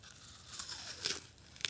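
Someone bites into an apple, giving a few faint, sharp crunches and tearing snaps in quick succession, close up and quiet.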